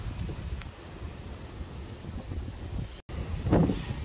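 Steady wind rushing and buffeting against the microphone outdoors at Peak Wildlife Park in Staffordshire, with a louder gust near the end after a brief dropout.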